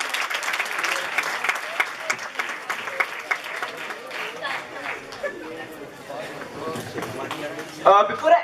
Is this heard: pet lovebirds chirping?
no